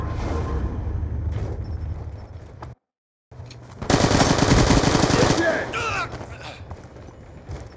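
Rapid machine gun fire rattles in sustained bursts in Black Ops II, loud and close, with a brief silent gap and voices speaking over parts of it.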